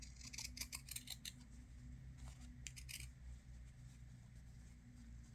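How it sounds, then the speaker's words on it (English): Pinking shears snip through fabric in quick, crisp bursts of clicking cuts, a cluster early on and another a little later. The sound is close but quiet over a steady low background hum, with no talking. "with my pinking shears."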